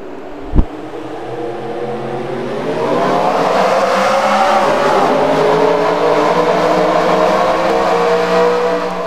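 Race cars in a PlayStation racing game pull away together from about half a second in, a loud, steady roar of several engines rising in pitch as they accelerate, preceded by a single sharp thump.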